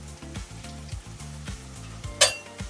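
Green coconut farali patties frying in hot oil, a steady low sizzle running throughout, with a brief sharp clink of a utensil near the end.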